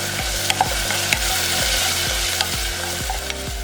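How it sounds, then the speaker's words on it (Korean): Seafood stir-fried with garlic in oil in a pot over medium-low heat, a steady sizzle broken by regular scraping strokes of a utensil, about two per second, close and clear with no talk. "냄비 올려서 중약불, 식용유 2스푼 넣고 달달 볶아서 마늘향이 올라오면 해물 넣고 볶고"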